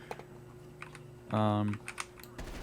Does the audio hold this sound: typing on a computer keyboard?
yes